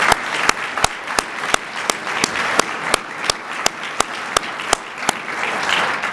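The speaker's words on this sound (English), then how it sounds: "Let's give everyone another round of applause." Steady audience applause at an awards ceremony for Northern Virginia leadership honorees, a dense wash of many hands clapping continuously with sharp individual claps standing out at a regular rhythm, fairly loud and with no talking.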